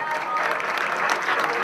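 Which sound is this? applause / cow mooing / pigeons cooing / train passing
applause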